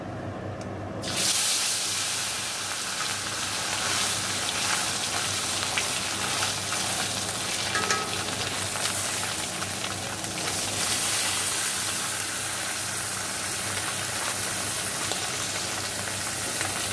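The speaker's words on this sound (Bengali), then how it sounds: "মাছগুলো ভাজবো।" Parshe fish sizzle steadily in hot oil in a pan, a continuous dense frying hiss that starts after a brief quiet moment and carries on without pause.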